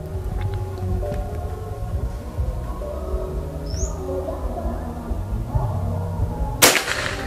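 One sharp PCP air rifle crack sounds late in the clip, sudden and loud against a steady low outdoor hum with a faint chirp earlier.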